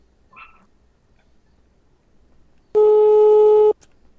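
Phone ringback tone inside GTA V during a call: a single steady electronic tone lasting about a second, loud and alone after a short faint blip and near-silence.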